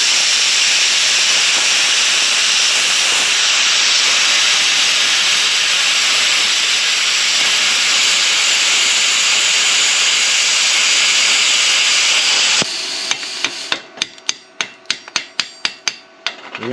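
An Arccaptain CUT55 plasma cutter slices through 3/8-inch thick steel with a steady, loud hissing roar, ending in a run of sharp clicking pops as the arc sputters, without talk.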